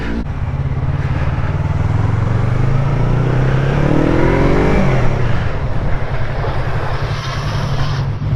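Yamaha R3 motorcycle accelerating in the rain, its engine note rising steadily and staying loud and close throughout, with a constant wet rush of road and rain noise underneath.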